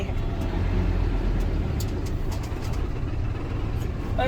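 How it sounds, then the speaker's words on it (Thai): A car pulls away in third gear with a steady, heavy low engine rumble close by that holds fairly constant throughout. "เดี๋ยวผมจะลองออกเกียร์สามให้ดูนะ"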